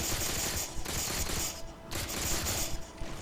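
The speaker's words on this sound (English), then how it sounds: "Start peppering him with the plasma pistol, and he will not move." Plasma pistol fire from Halo 4, a dense run of rapid overlapping energy shots that continues almost without a break, loud and close, with short pauses partway through and near the end.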